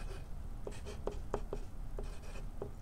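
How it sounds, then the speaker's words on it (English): Pen strokes of formulas being handwritten on paper, a series of short, quiet scratchy taps in an irregular rhythm over a steady low background hum. "you would write your formulas over here"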